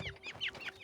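A hen gives a few quick, quiet clucking calls in a short burst, close and alone.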